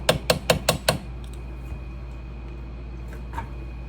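Five sharp hammer taps in quick, even succession drive out a transmission bushing on a Harley-Davidson Shovelhead, loud and close, followed by quiet shop room tone with a faint tick or two.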